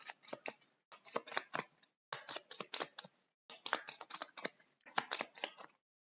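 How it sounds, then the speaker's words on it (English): Board game cards for Tramways are shuffled close up in five quick, crisp riffling bursts separated by short pauses, with no talking. "then we shuffle the discard pile."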